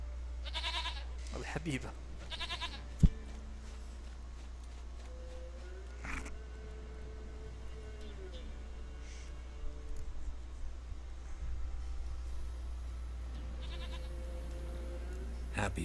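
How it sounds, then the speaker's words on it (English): In the video game The Witcher 3, a goat bleats in short wavering calls amid game ambience, a low hum, scattered clicks and ongoing talk. "of mine, dearest, sweetest goat."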